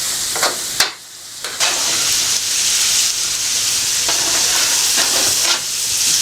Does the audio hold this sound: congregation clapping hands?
no